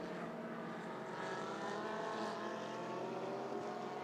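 Race cars, a Bentley among them and GDL Porsches nearby, streaming over the timing line on a wet Sepang circuit during a 12-hour endurance race, making a steady, dense engine drone with spray hiss that swells slightly as they pass.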